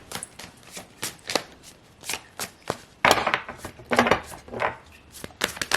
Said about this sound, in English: Let's pull some oracle cards here.